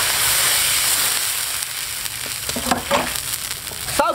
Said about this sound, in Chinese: 炒干泡菜水去加水